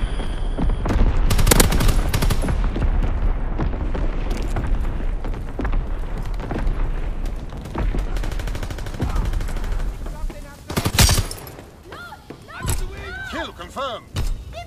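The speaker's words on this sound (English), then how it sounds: "Firing primary battery." Primary battery guns on a warship in a WW2 video game, firing heavy booming salvos and bursts of rapid gunfire, loud and close, with explosions in between and game voice callouts over the action.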